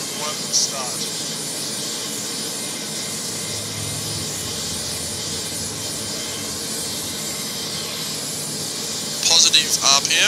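A C-27J turboprop's number one engine spools up during start in a flight simulator, a steady broadband whine and hiss building in the cockpit, with a few brief clicks and switch sounds near the end.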